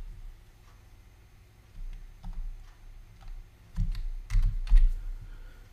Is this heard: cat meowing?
no